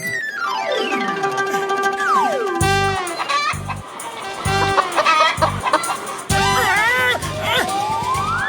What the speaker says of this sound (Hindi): सामने से मुर्गी आ रही है, वो हमें खा जाएगी।